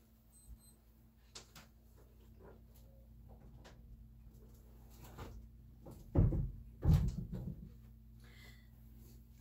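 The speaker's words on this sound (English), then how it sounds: "Let me shut my door real quick." An indoor door is pushed shut in a room full of reptile tanks and a dog, giving a couple of close, dull thumps near the end after quiet room noise and faint scattered knocks.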